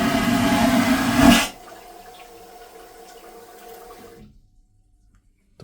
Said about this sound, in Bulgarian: Пускането на водата.